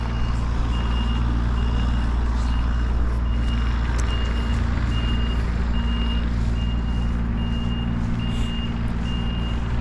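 A grapple truck reverses at a property cleanup, its backup alarm beeping steadily and evenly over a loud, constant diesel engine drone.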